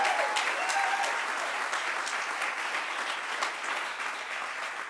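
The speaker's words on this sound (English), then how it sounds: "a round of applause for our co-chairs, Randy and Aaron" A banquet audience at a summer camp's 100th celebration gives the co-chairs a sustained round of applause, dense even clapping that fades slightly as it goes on.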